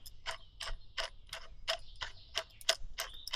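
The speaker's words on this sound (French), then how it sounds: "ici, j'ai une bague, je dévisse." A threaded ring fitting being unscrewed on a pressure gauge line of a mini excavator's hydraulic system, heard as a close, quiet run of about nine sharp, regular ratcheting clicks with no talk.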